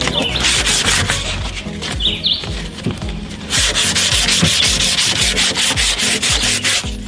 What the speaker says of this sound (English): We'll move on to the sandpaper.